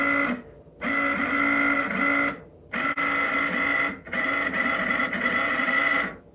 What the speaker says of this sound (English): if I touch it to the pin here, you can hear the motor turn on